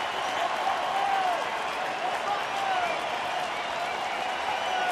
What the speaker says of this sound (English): So here comes the crowd now